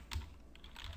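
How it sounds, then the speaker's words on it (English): Several quick keystrokes are typed on a computer keyboard. The clicks are brief, faint and close, with a slightly louder tap near the start. "Why is it that I can't type it correctly?"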